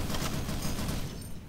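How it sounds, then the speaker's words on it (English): Browning Automatic Rifle firing in a WWII-era Soviet roleplay video game, a dense, continuous stream of loud automatic gunfire that holds steady for the whole moment before easing slightly at the end, with no talking. "Browning automatic rifle"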